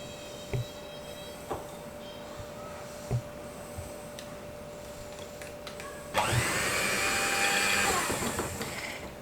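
An electric hand mixer whisks Dr. Oetker carrot cake batter with walnuts on hand: a low motor hum with a few soft knocks, then a louder, steady whirring drone for the last few seconds.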